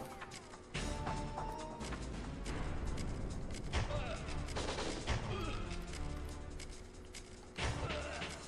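Dense, continuous enemy gunfire and crashing impacts from the video game Winback, loud and busy throughout with sharp bursts of shots and smashes layered together.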